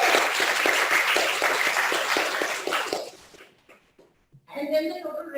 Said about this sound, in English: let's give one big round of applause to the operating employees.